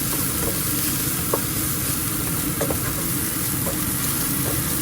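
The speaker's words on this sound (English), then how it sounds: "So just stir them, toss them around a little bit." Garlic sizzles and fries in a pan for a quick Sorak curry, a steady loud crackle with occasional clinks and scrapes from stirring and tossing, no voices.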